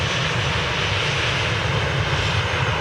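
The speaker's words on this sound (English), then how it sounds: "So 737-8. It's gonna race with the EasyJet as that departs as well." Jets, a Boeing 737-8 and an EasyJet airliner, depart at Manchester Airport on an early morning, a loud, steady engine roar that fills the air without a break and with no talking.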